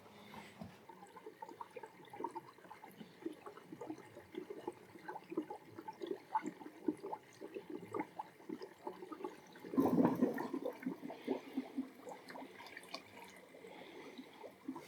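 Water rushing and gurgling through underfloor heating pipes as air is purged, a faint continuous trickle with bubbling spurts and one louder surge midway, no speech.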